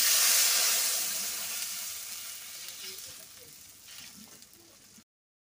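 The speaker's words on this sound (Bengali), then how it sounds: "এই যে হালকা ভাজি, ইলিশ মাছ কিন্তু কড়া ভাজি দেওয়া যাবে না" Hilsa fish frying lightly with eggplant in a pan gives a steady, close sizzle, loudest at first and slowly easing over several seconds, with a few soft stirring scrapes near the end and no voices.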